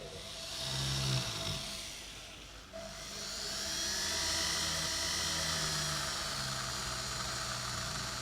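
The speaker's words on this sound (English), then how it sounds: "I'm using a traditional jewellery type mop on a pendant drill with a jewellery polish." A pendant drill fitted with a jewellery polishing mop whines and hums steadily, dipping briefly in pitch and load midway as a gold-finished piece presses against the spinning mop, then recovering.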